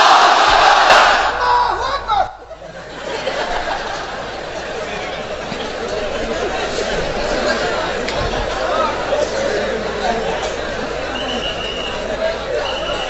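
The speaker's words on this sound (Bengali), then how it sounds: "এবার সবাই মিলে 3টা তাকবীর পড়েন একসাথে আওয়াজ করে" A large crowd at an outdoor religious gathering shouts takbir together, a loud, dense roar of many voices that builds and holds steadily, with a leader's voice over it at first.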